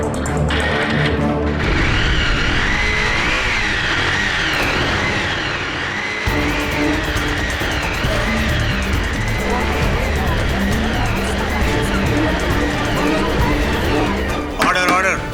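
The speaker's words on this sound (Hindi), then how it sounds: "अगर इतने दिनों से बाइक गैरेज में खड़ी हुई है तो उसे स्टार्ट भी नहीं होना चाहिए" A motorbike that has stood in a garage for a long time starts and revs loudly and continuously, its rising and falling engine note layered under dramatic music.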